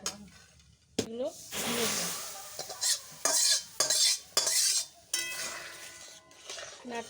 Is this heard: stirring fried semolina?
yes